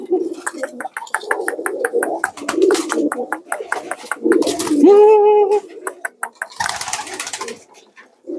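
A giringan racing pigeon from Pekalongan or Temanggung coos loudly and close with repeated rolling calls and one drawn-out coo in the middle, and someone talks over parts of it.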